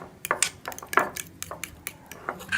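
Spices being mixed into yogurt in a bowl, a series of light clinks and taps of a utensil against the bowl in an irregular rhythm, close and fairly quiet, with no talk.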